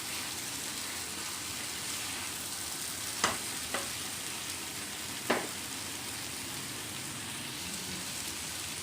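Chicken masala for Kolhapuri chicken frying dry in a pan, a constant quiet sizzle with a few sharp spoon taps against the pan as it is stirred.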